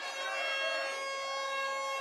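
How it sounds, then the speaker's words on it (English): A stadium siren sounds at a rugby league match between Dewsbury Rams and Featherstone, a steady sustained tone held at moderate level throughout with no talk over it. "As the siren goes in the background"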